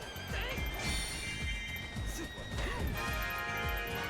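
A synthesized horse whinnies loudly amid hoof clip-clops and clattering game sound effects in Hyrule Warriors: Definitive Edition, with a sustained musical tone in the background.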